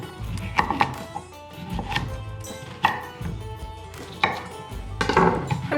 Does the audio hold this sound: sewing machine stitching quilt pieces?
no